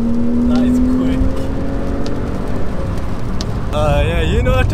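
Porsche 911 Carrera engine revving hard while driving in the rain, a steady loud drone with rising pitch and wet road hiss throughout, and voices talking over it near the end.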